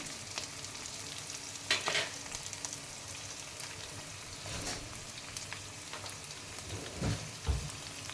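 Chopped large onion sizzling and frying in a pan while making white rava upma, with steady hiss and a few louder stirring scrapes, close by and without talk.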